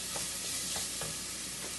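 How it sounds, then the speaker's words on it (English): Purple onions sizzle in a hot pan for homemade lobster fried rice, a dense bright crackle with a few distinct stirring scrapes and taps of a utensil, close and continuous. "So then now I'm putting in my purple onions also"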